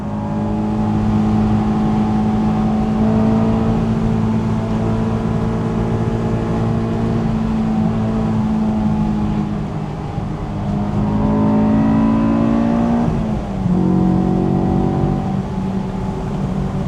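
Honda S2000 engine droning steadily while driving on a road, loud and close, with rising and falling pitch as it accelerates and shifts gears.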